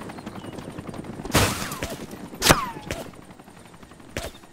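Gunfire in the PC game DayZ: three sharp, echoing shots spaced a second or more apart, fairly loud over a low, steady background.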